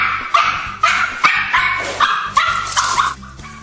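A stressed dog barks sharply and repeatedly at a cat, about eight loud close barks in an uneven rhythm with whimpering yips between them.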